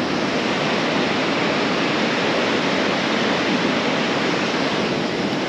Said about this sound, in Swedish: ett vattenfall.